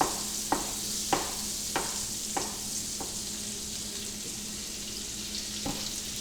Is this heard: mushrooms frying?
yes